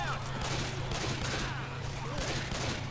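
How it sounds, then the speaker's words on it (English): Gunfire rattles in the zombie shooter video game Left 4 Dead 2, a dense, continuous volley of rapid shots under a low steady hum, with a player talking over it. "Oh, I just shot Coach in the hip."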